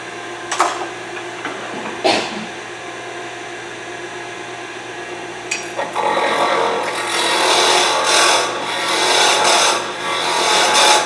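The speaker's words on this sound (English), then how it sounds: "Spindle roughing gouge again." A spindle roughing gouge cuts into wood spinning on a lathe while a beer keg tap handle is turned, opening with a few sharp taps before a loud, rough continuous shaving rasp builds and holds, heard close with no talk.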